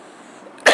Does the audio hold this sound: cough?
yes